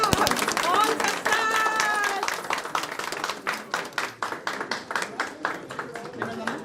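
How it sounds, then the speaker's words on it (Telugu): Guests clapping in scattered, uneven bursts at a Telugu film pooja ceremony, which turn into a rhythmic run of claps in the second half, over loud overlapping talk and a bright chime early on. "క్లాప్ కొట్టండి మేడం క్లాప్ కొట్టండి"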